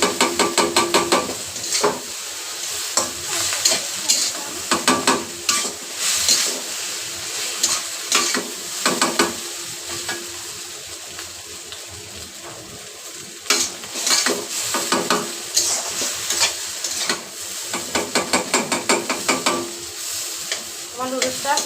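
Egg noodles fry in a pan while being stirred, with a steady sizzle under repeated scraping and clattering strokes of a utensil against the pan, loud and close throughout.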